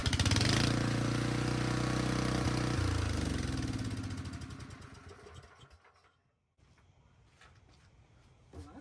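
A gas generator engine is pull-started and runs loudly with a steady mid-pitched drone, then sputters, fades and cuts out, leaving only faint handling noises.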